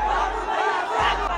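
A large crowd gathered at a motorbike meetup in Muzaffarpur, Bihar, producing a steady, loud roar of many voices with shouting and a continuous low rumble underneath throughout.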